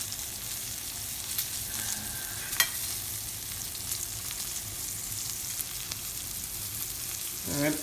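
A steak sears in a hot pan, giving a steady, loud sizzle and crackle that runs unbroken throughout with a few sharp pops, no voices.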